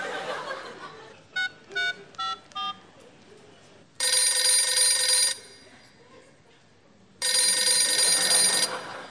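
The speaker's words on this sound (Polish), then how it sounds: "Telefon panu dzwoni." A telephone rings with two long, loud, buzzing rings separated by a pause, after a few short beeping tones, with faint voices and a low murmur of room noise in between.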